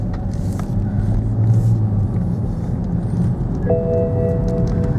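A 2007 BMW E91 335i wagon with a faulty wheel bearing rolls down a lane, a steady low engine and road rumble heard from inside the car, with a faint electronic chime tone near the end.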